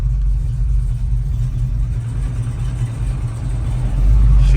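A 1969 Dodge Dart Swinger with a 340 V8 engine running nearby, a steady low rumbling idle with a slight swell in loudness at the end and no talking.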